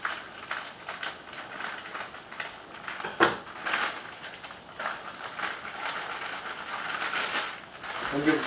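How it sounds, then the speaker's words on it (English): Scissors cut open a plastic noodle package in a home kitchen, with steady crinkling and rustling of plastic and one sharp snip partway through. "cut them open with these scissors."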